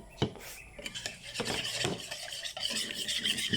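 A spatula scrapes and stirs chopped onion and garlic in a pan, making irregular rubbing, scraping and light clattering strokes close by.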